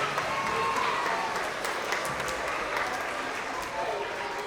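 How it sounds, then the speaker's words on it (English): Parents and families applaud second graders at a spring school award assembly, a dense, steady round of clapping from a crowd that holds for several seconds, with faint voices mixed in. "Let's give our second graders a round of applause"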